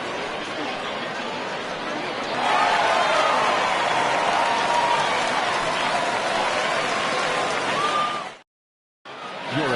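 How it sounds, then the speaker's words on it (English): A home baseball crowd gives a broad, sustained ovation to a departing pitcher who kept a shutout, swelling louder after a couple of seconds as a far-off roar of claps and cheers with chatter, then cutting to a brief silence near the end. "this home crowd likely to give him a standing O as he departs with the shutout in check"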